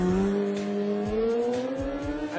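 A stunt motorcycle engine revs steadily upward while the rider holds a wheelie, its pitch climbing continuously over the whole stretch, with a few low thumps underneath; no talk.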